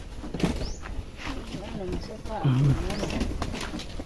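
Pet doves coo in low, rolling phrases, close by, under someone talking.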